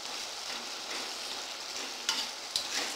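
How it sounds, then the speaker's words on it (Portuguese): Banana being mashed while it cooks in a pan, a steady close sizzling hiss with soft stirring, broken by two sharp scraping clicks of the utensil near the end. "eu já vou estar amassando a banana aqui"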